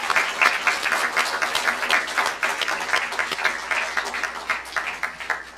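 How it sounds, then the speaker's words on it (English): Audience at an electric cooperative's annual meeting applauding green-shirted staff: sustained, dense clapping from a large crowd, steady and fairly loud across the whole stretch. "let's just applaud all the green shirts in the building"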